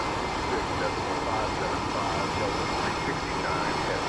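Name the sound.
MD-11 jet engines in Microsoft Flight Simulator 2024 video game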